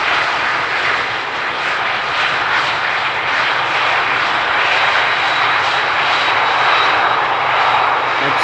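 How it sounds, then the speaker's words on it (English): A Lufthansa CRJ jet touches down on runway 18R at Amsterdam Schiphol, its engines giving a loud, steady roar with broad hiss that holds constant throughout, close by and with no voices. "the CRJ from Lufthansa touching down just now"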